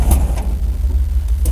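The engine of a 1955 Chevrolet dump truck cranks and sputters in a cold start attempt, loud and close, a low pulsing churn with irregular knocks that never settles into a steady idle.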